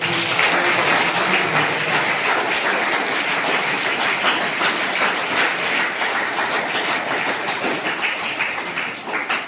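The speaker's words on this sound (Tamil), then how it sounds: "அதுக்காக மேடமுக்கும் காவல்துறைக்கும் நம்ம ஒரு பெரிய கைத்தட்டல்." A school audience gives sustained, dense applause for a police officer at a drug and child-safety awareness event, with clapping that stays loud and fades slightly at the end.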